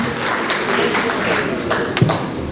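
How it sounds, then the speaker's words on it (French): An audience applauds for the Catholic church at a lively stage show, a moderate burst of clapping mixed with voices and chatter, with a sharper thump near the end. "on peut applaudir quand même pour l'église catholique"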